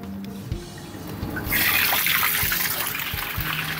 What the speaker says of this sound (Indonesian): Lalu kita buka stop keran bagian bawah.